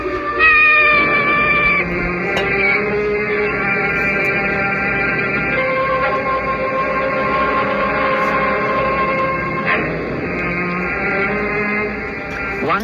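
A cat meows and caterwauls in long, wavering cries through a radio drama scene, repeated calls rising and falling steadily for several seconds, loud and close with no talking over it.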